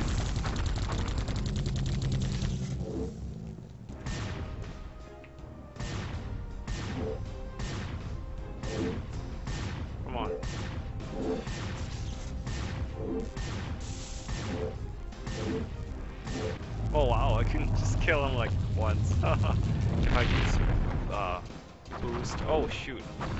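Gunfire in the video game Geist crackles in rapid bursts of sharp shots, loud and close, with heavier crashes and a dense barrage near the end, while a voice talks over it throughout.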